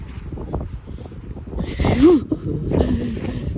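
Strong wind gusting outdoors on a cold day in Canada, a steady blustery rush with stronger swells partway through, heard alongside light movement and faint voices.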